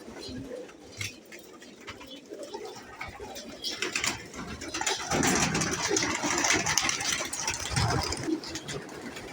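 A flock of mostly white pigeons coos in a desert, soft murmuring calls under a steady idling engine hum, with someone talking over them.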